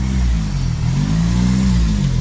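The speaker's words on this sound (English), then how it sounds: "The revs are still bouncing up and down, as we can see." A Honda Civic EP3 Type R engine idles unevenly nearby, its revs bouncing up and down in slow waves, a steady close rumble with no talking.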